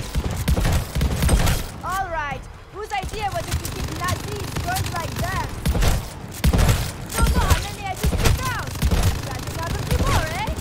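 Minigun barrage in Call of Duty Vanguard zombies mode, dense rapid automatic fire in loud bursts with short gaps, mixed with game sound effects and what may be voices.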